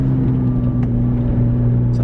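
A hybrid transit bus passes nearby with a steady, loud engine drone and low rumble that holds evenly across the short moment.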